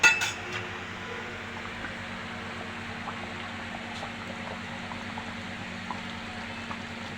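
Cucumber curry with rui fish boiling in a pan, a steady low bubbling simmer with a brief clink of cookware at the very start, fairly quiet and without talk.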